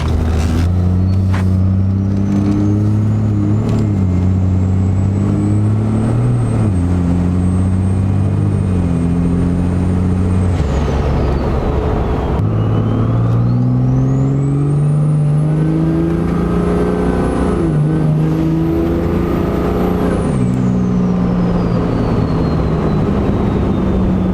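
Duramax diesel truck with compound turbos revving hard, loud engine rising and falling through repeated throttle blips with a high turbo whistle climbing and dropping over the rumble, close and continuous with no talk.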